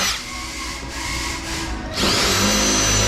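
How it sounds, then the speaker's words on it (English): A power drill bores slightly into an existing rivet hole to widen it for bigger rivets, giving a close, loud, steady whir that grinds on and then rises sharply in pitch near the end, with no talking. "use these bigger rivets by drilling out the hole ever so slightly"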